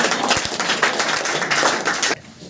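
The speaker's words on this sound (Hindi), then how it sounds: "तो अमिताभ बच्चन के लिए ताली हो जाए।" A crowd gives a steady burst of loud clapping at an interview with a student who scored well in the Bihar board matric exam, ending abruptly after about two seconds.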